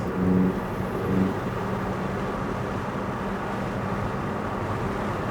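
A Lamborghini Huracan drives on a race track, its engine a steady, close droning roar with a brief tonal rise in the first second before settling into an even, continuous rumble.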